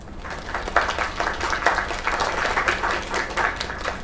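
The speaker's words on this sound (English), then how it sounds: "Another round of applause." An audience in the video game Lake applauds a singer after her performance, with close, dense clapping that swells and continues steadily throughout.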